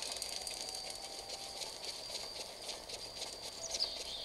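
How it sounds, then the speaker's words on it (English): Horse hooves in Zelda Breath of the Wild, a steady rhythmic clip-clop at a moderate level running throughout. "My horse."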